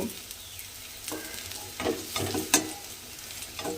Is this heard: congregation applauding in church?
no